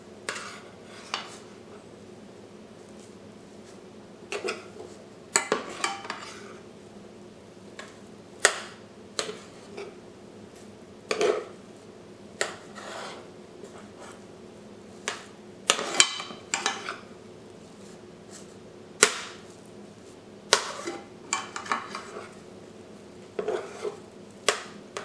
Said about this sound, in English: Stir until the cheese is incorporated into the cornmeal batter.